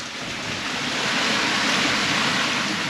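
Loud, steady roar of strong wind and rushing waves at sea, a continuous dense wash of noise buffeting the microphone, with no voices.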